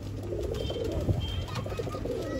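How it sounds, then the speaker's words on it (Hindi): A Madrasi pigeon coos in soft, repeated low calls, close but fairly quiet, with faint background noise. "देख सकते हो शायद मद्रासी कबूतर है"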